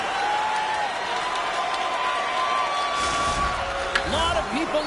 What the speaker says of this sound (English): Crowd is on their feet. They're buzzing about.